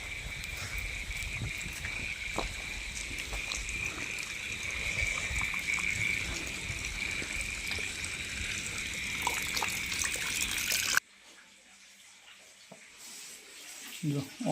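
Rainwater trickling and gushing into a flooded office after a night of heavy rain and storm, a steady watery wash for about eleven seconds before cutting to a much quieter, hushed stretch.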